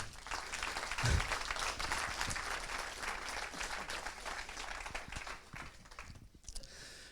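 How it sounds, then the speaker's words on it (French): An audience applauds at a mayor's New Year reception in a hall, a sustained, moderately distant wash of clapping that thins out toward the end. "Je vous demande de bien vouloir l'applaudir"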